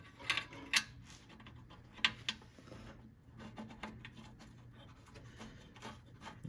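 A ratchet works a bolt on a junkyard lawnmower, faint quick clicking and scattered metallic ticks in irregular bursts with brief pauses, close and quiet.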